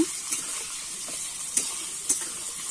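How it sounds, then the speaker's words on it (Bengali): Potatoes frying in oil with salt and turmeric for a Bengali drumstick curry, a close even sizzle with a few light clicks of a spatula. "আমি লবণ হলুদটা দিয়ে কিন্তু আলুটা লাল লাল করে ভেজে নেব।"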